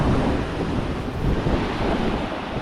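Sea waves wash onto the shore beside a seaside eating spot on Siargao Island, a rough, continuous roar mixed with wind buffeting the microphone, loud and close throughout.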